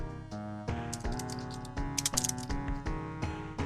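Keyboard typing rattles out in irregular bursts of quick, close clicks over a steady electronic music backdrop, with no voices.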